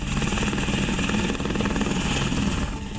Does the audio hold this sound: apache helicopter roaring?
yes